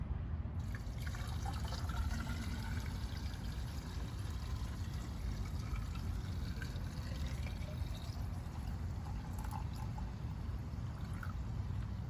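Muriatic acid solution pours back into a saltwater pool salt cell, a steady faint liquid rush and trickle lasting throughout with small dripping and bubbling detail, and no voices.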